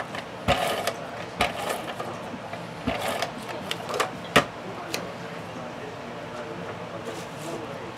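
An ATG adhesive tape gun runs tape onto a paper Halloween card, giving several sharp mechanical clicks and ratcheting snaps spaced irregularly over a low background hum.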